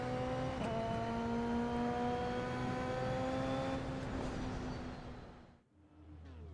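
A Porsche Cup race car in the iRacing simulator holds a loud, steady engine drone with rising harmonic tones as it accelerates. The engine note drops away near the end, followed by a brief low rumble.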